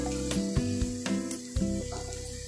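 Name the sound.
tomato and cut potatoes added to sizzling spices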